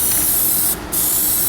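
Gunmetal gray Plasti Dip sprayed from an aerosol can onto car wheels and rims, a loud close continuous hiss broken by one brief pause before resuming.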